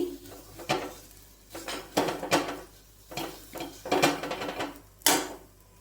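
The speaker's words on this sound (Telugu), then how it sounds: "ఇందులో ఈ పౌడర్ మొత్తం వేసి మిక్స్ చేసుకుందాము" A spoon mixes dry fruit powder in a metal pan for laddu, making bursts of loud scraping and clanking strokes with short pauses between them, close and with no talk.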